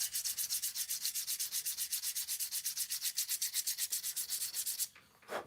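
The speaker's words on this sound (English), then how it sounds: "I'm sanding and the wood stem, the cherry stem, to blend it to the acrylic mouthpiece" Hand sanding a cherry wood pipe stem to blend it into an acrylic mouthpiece, a steady rapid back-and-forth rasp close up with even regular strokes, ending in a brief pause and one last scrape.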